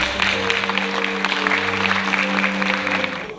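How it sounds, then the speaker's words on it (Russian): A theatre audience in Grozny applauding after a scene of a musical by Ingush actors, a steady crowd clapping held over sustained low musical tones. "Аплодисменты слышны практически после каждой сцены."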